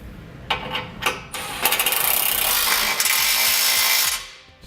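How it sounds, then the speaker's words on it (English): A 19mm socket snugging down bolts on a Curt front-mount trailer hitch on a 2009 Dodge Ram: a few short clicking bursts, then a sustained close mechanical whir for about two seconds before it stops. "Now we're going to use a 19mm socket or a 3/4 inch socket. We're going to get those snugged down."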